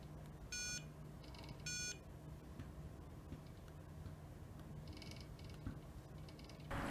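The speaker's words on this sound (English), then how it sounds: "here we can make a sound. The buzzer is not that loud." A Makeblock mBot Ranger robot's small buzzer gives two short, thin beeps close together near the start, fairly quiet, over a faint hum and a few light ticks.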